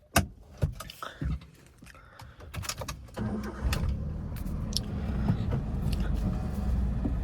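A Maruti Alto 800 small hatchback is started, with faint clicks and handling noises first, then the engine catches and settles into a steady low idle rumble that continues to the end.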